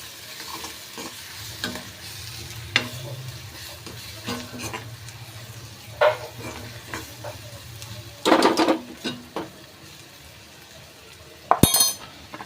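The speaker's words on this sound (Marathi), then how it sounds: "सब्जी मसाला गरम मसाला हे सगळं ॲड करून झाल्याच्यानंतर व्यवस्थित मिक्स करून घ्यायचं आहे" A pan of vegetable sabzi with sabzi masala and garam masala is stirred, giving repeated scraping and clinking strokes over a low, steady sizzle, with a louder cluster of scrapes near the end and no talking.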